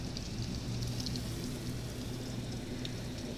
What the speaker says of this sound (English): Holy crap, it's raining!